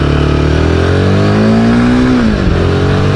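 A Royal Enfield Himalayan 450 motorcycle pulling hard in first gear, its engine note climbing steadily in pitch as it accelerates, loud and close, with constant wind and road roar and no talk.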